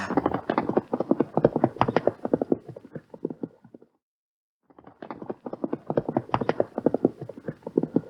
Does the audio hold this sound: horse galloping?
yes